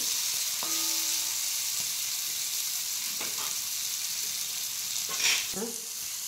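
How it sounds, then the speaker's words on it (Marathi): Green chilies roast in a hot pan in a rustic village-style kitchen, giving a steady close sizzle and frying hiss with a few brief stirring scrapes. "आता मस्त आपली भाजत आली मिरची।"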